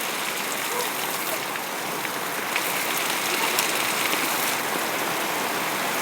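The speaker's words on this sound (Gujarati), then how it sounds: "આજે અમારે આવો વરસાદ સરસ મજાનો વરસે છે" Heavy rain pours steadily over farm fields, a dense, even hiss of drops on surfaces that holds unbroken for the whole stretch, with no voices.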